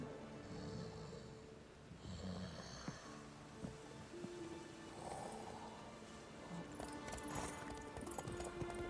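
Horse hooves clip-clopping in The Witcher 3: Wild Hunt, a quiet steady rhythmic trot of hoofbeats with a faint snort and a soft game soundscape behind it.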